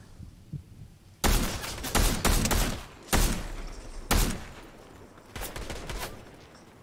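Fortnite gunfire comes in sharp, loud bursts: after a quiet second, several rapid volleys of shots hit in clusters, each with a brief pause between, close and punchy.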